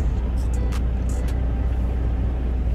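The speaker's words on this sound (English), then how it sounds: "The truck just shut off from idling." A semi truck hauling the Werner Best Buy account idles with a constant deep low rumble heard from inside the cab, broken only by a few brief high hissing ticks near the start.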